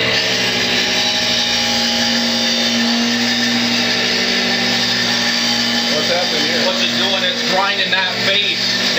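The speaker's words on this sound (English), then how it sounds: "Grinding that face down so it's perfectly flat." A power grinder works a flywheel face flat for a new clutch and pressure plate, a loud, continuous high whine with a steady hum that wavers toward the end as pressure on the metal shifts.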